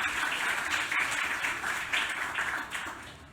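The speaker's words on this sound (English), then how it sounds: "Please, a round of applause to get them started," An audience applauds at a literary conversation event, a steady wash of clapping at moderate distance that carries on evenly for several seconds.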